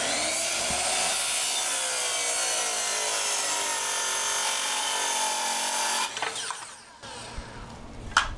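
A power saw cuts steadily through a wood flooring board during a container-house renovation, a loud continuous whine for about six seconds before the blade cuts out, followed by a few knocks and handling noises.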